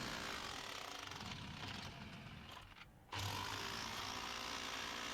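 Jackhammer breaking rock, a loud continuous rattling hammer that drops briefly and dips before resuming at full strength, close by with no talking.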